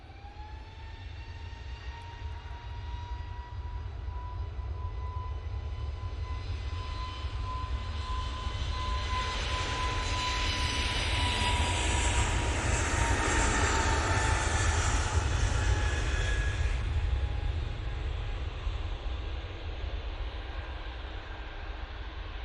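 An EasyJet airliner in revised livery departs, its engine roar swelling to a loud, broad peak mid-pass before slowly easing off, heard alone without voices.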